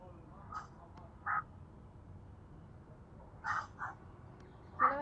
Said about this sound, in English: could you hear all those bird noises?